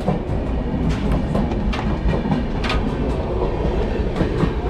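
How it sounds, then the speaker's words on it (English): A passenger train in India rumbles steadily along the rails, with a continuous low roar and faint rhythmic clicks from the wheels passing over track joints. "First ever train ride in India is great."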